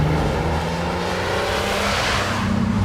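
TVR 3000M sports car engine, a continuous close drone that rises in pitch as it accelerates, with a steady rumbling exhaust and no talking.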